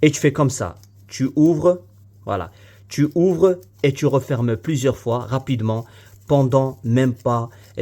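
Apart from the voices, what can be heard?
No distinct noise like a dog, phone or traffic.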